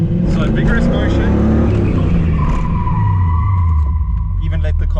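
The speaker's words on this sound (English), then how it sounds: "Dip the clutch, handbrake up and kind of let go of the steering wheel to let the car do what it has to" Car drifting with the clutch dipped and handbrake pulled, engine revving loudly as tires skid and squeal, the pitch rising into a sustained whine near the end.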